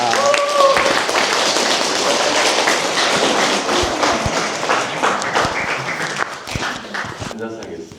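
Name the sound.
audience applause welcoming a speaker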